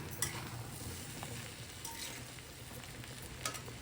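Fried cluster bean (gorchikkudu) curry, Maharashtra style, being stirred in a pan: a steady soft sizzle with occasional scraping clicks of the spoon, close and alone with no talk.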